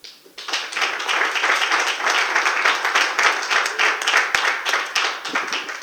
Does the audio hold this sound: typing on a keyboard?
no